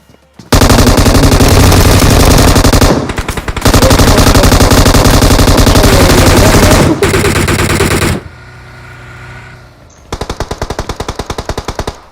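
Sustained automatic fire from an M416 rifle in a shooter video game, loud and nearly continuous in long bursts with brief pauses, ending in a rapid rattling volley.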